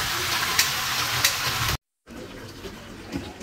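Dried chilies, cumin and ginger paste hit hot oil in a pan, giving a close, bright sizzle and crackle with a couple of sharp spits, then a short silence before a softer continued frying hiss.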